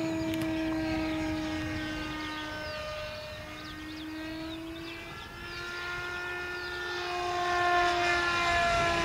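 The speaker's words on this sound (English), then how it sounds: "It's a gorgeous one wing low takeoff, Ron." A small model aircraft with a canard wing takes off on a still morning, its buzzing engine a thin, sustained whine that sags and then climbs in pitch as it pulls away, heard alone at moderate distance.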